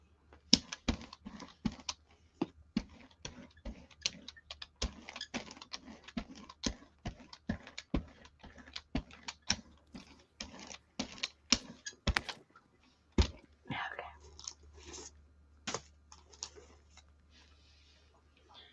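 Soft, rapid keyboard clicks patter steadily and irregularly for a long stretch, fairly quiet and close, with no talking.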